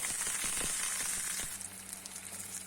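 Grated coconut roasts in a pan with curry leaves, ginger and garlic for a bitter gourd masala dish, crackling in a dense sizzle with a few sharp pops before quieting slightly.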